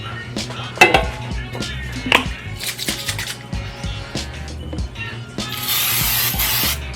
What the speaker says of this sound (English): what I'm going to do is spray this pan right here.